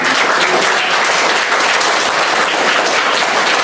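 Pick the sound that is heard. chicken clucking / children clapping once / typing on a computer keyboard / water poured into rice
children clapping once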